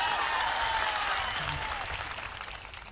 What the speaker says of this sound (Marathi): एवढ्या मोठ्या संख्येने उपस्थित असलेल्या माझ्या महिला भगिनींसाठी एकदा जोरदार टाळ्या वाजव